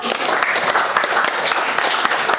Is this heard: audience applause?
yes